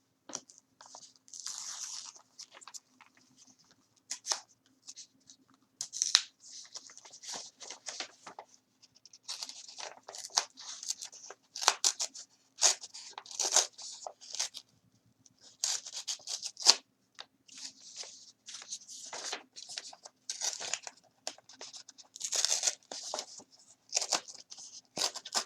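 Paper is torn by hand along its edges to give a ragged, aged look for a treasure map craft, making a run of close, crisp ripping bursts with short pauses between them and no talk.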